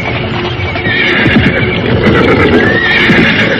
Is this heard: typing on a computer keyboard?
no